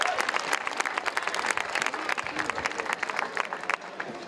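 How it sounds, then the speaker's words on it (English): Applause from an audience at a Black History celebration event, welcoming a CEO and Executive Chairman to the stage: dense, steady clapping from many hands fills the room throughout, with some crowd noise mixed in. "give me a round of applause"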